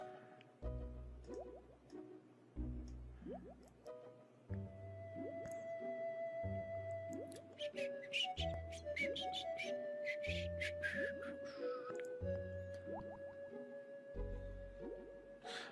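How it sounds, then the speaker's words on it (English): Chiptune-style background music from the Dragon Quest VI video game in an undersea area, with plinking water-droplet notes woven into a steady repeating bass and melody, playing alone without talk. "I do kind of like that they made the water droplets part of the music"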